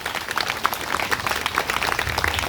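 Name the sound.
congregation clapping for Jesus Christ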